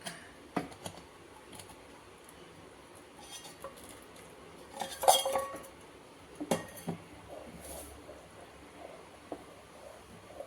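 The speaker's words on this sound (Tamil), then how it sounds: "கை விடாமல் கிளறிட்டே இருக்கணும்" A spoon stirs wheat flour, coconut milk and jaggery halwa in a pan, making sparse scraping clinks and ticks at an uneven pace, with a louder cluster midway and quiet between.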